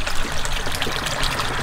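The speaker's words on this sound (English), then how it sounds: "this is what just flows a whole bunch of water throughout the pond" A small pond pump pushes water through a mini pond, giving a steady, close rushing trickle of flowing water that holds an even level throughout, with no voices.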